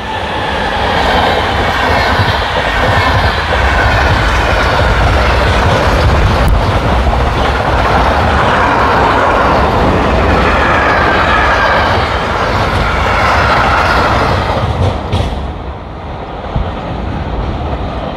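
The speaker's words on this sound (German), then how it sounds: "Da kommt wieder eine DB Cargo. In relativ schneller Fahrt." A long DB Cargo freight train hauled by class 185 locomotives rushes past at speed, loud, steady roar and rumble of wagons with rail clatter, fading slightly near the end.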